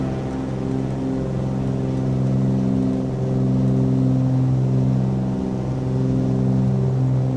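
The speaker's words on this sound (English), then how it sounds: "Listen to the sound of those engines." Twin piston engines of a Cessna C414AW Chancellor on the takeoff roll in a flight simulator, a steady loud droning hum with layered harmonic tones that swell slightly as power builds, no voices.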